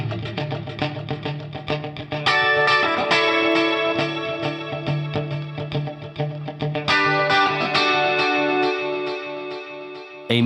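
Distorted electric guitar chords through a stereo delay ring out with a spacious echo, the right channel slightly behind the left, notes trailing each strum, loud and continuous with no voices.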